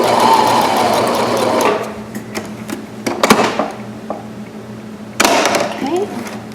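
A hand-crank sewing machine stitches black fabric for pajama pants, giving bursts of rapid mechanical clatter with pauses between runs and a few light clicks, close and fairly loud.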